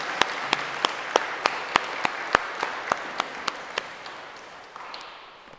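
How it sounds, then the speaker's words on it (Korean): Congregation applauding the church choir at a Sunday worship service, with sharp hand claps standing out above a steady wash of applause that fades gradually. "우리 박수로 격려 한번 하도록 하겠습니다."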